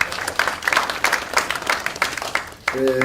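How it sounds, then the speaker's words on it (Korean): Applause at a political party assembly, many hands clapping with distinct sharp claps standing out, fading slightly before a voice begins speaking at the end. "박수 한 번 좀 크게 쳐주시기 바랍니다"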